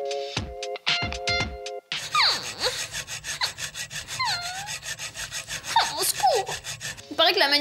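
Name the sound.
filing fingernails with a nail file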